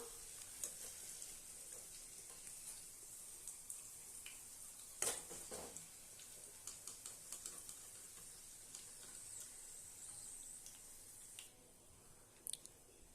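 Okra chilli pieces deep-frying in oil, a continuous faint bubbling sizzle with scattered crackles and one louder stirring clatter midway, no voices.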